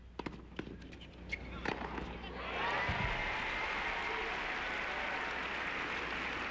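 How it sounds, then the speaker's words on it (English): A tennis crowd at the 2001 Indian Wells match between Andre Agassi and Pete Sampras claps, starting as a few scattered claps and swelling into broad sustained applause, while a commentator talks over it. "Crowd giving Sampras a hand."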